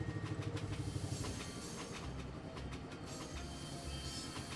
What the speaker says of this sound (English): We'll just park this train right about there.